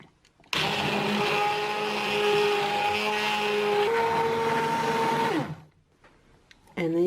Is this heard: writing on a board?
no